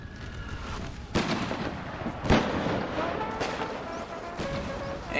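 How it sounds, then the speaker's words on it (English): Artillery fire in a Napoleon: Total War American Civil War mod battle: repeated deep cannon booms spaced a second or so apart over a steady rumble of distant musketry and battlefield noise. "got the artillery fire"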